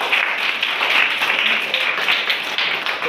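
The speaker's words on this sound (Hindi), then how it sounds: "जोरदार ताली फिर से हो जाए सर के लिए" Steady, continuous applause from an audience at a school general-knowledge competition, a dense sustained patter of clapping throughout with no speech over it.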